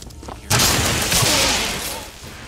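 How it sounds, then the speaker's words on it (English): A rocket-propelled grenade blows up in BioShock Infinite, a sudden loud blast followed by a rumbling, crackling tail that fades over a couple of seconds, with some talk underneath. "Unsuspecting victims blown up by a rocket-propelled grenade."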